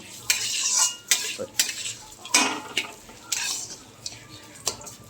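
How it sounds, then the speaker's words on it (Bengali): Raw rice frying in a pot for pulao, with a spoon scraping and clinking against the metal in regular strokes over a soft sizzle. "চালটা দিয়ে চালটাকে একটু ভেজে নেব"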